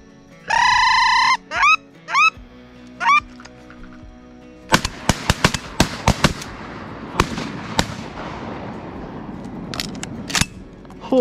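Shotguns go off during a duck hunt, a rapid volley of sharp loud blasts in quick succession and some echoing, after a stretch of honking duck or goose calls at the start.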